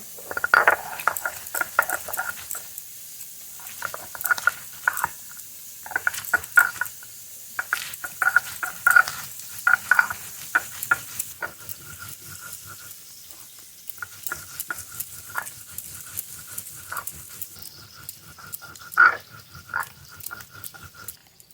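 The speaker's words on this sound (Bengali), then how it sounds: "শুকনো লঙ্কা কাঁচা লঙ্কা ধনে জিরে একসঙ্গে বেটে নেব" Dried red chilli, green chilli, coriander and cumin being ground together into a paste with water, for a cauliflower curry; repeated rhythmic scraping strokes, close by, in uneven bursts with short pauses.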